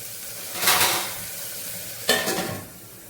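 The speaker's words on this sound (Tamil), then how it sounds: "வெங்காயம் டக்குன்னு வதங்கும்." Onions sautéing in a pan while cooking nombu kanji: a soft continuous sizzle broken by two bursts of louder stirring and scraping against the pan, close by, with no voices.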